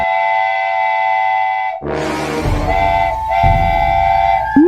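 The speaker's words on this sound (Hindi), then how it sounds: "भाई, वहाँ पर देखो, ट्रेन भी आ रही है।" A train approaching on a railway track blares a loud, sustained horn, then its heavy rumbling run takes over, with the horn sounding again over the rolling noise, close and powerful.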